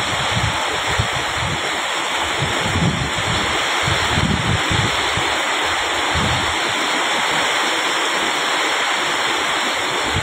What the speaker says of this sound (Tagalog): Bulwak ng tubig.